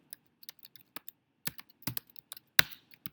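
Typing on a computer keyboard in a quiet room, an irregular run of crisp key clicks with a few louder taps, close and clear with no talk.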